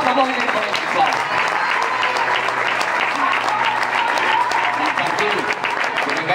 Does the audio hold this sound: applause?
yes